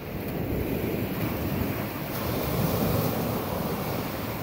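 Sea waves wash onto a shore at sunset, a broad, continuous roar of surf that swells slightly midway, mixed with wind buffeting the microphone, with no speech.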